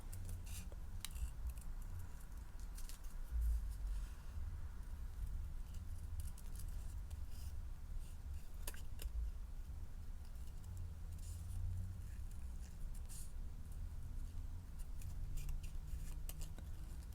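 Scissors fussy-cut a stamped paper image for a handmade card with quiet, intermittent snips and paper rustle over a low background hum, nearby but faint.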